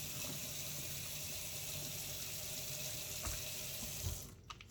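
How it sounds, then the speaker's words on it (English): Warm tap water runs steadily into a kitchen sink as squash and zucchini are rinsed, a constant close splashing flow that breaks off near the end. "And I go with the warm water and I just rinse it out."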